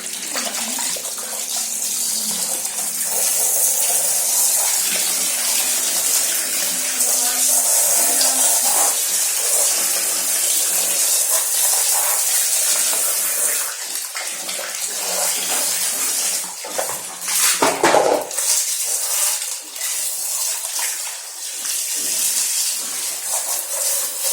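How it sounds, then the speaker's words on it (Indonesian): Water runs steadily from a tap while a dirty washing machine filter is rinsed clean beneath it, a continuous close splashing gush with brief changes in the flow. "Kita bilas sampai dia bersih, baru kita pasang kembali."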